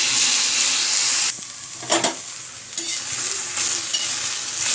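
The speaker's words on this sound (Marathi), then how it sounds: "आपल्याला हा पावटा, शेंगदाणे आणि हिरवी मिरची व्यवस्थित आपल्याला तव्यावरती भाजून घ्यायची आहे" Pavta beans, peanuts and green chillies roast and sizzle on a hot griddle, with hissing frying broken by sharp scraping stirs and clatters of the spatula close by.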